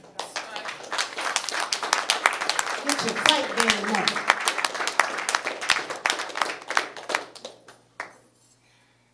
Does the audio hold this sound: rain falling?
no